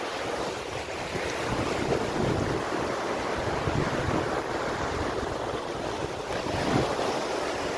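Surf breaking on a Visakhapatnam sea beach, a sustained rushing roar with heavy wind noise on the microphone and slight swells in loudness, no speech audible.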